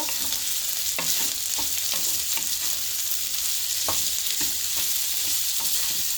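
Broccoli, capsicum and baby corn tossed in a hot pan as a vegetable stir fry, sizzling loudly and steadily while a spatula scrapes and stirs with repeated soft knocks, close up.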